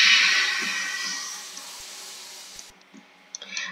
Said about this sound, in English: here's a little steam puff for you as well